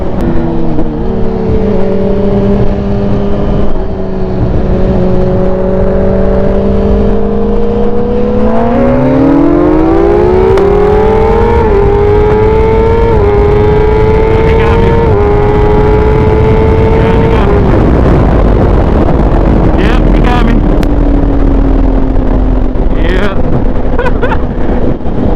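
BMW HP4 motorcycle with a Woolich tune and race exhaust pulling hard on a road ride, loud engine note rising through gears with a steady sweep and shifts, constant wind-buffeted roar close to the rider.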